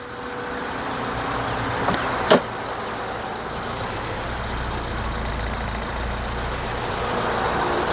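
A 1991 Honda Civic wagon engine idles steadily with a low, even rumble, nearby and unbroken, with a brief knock or clunk just after two seconds and no talk.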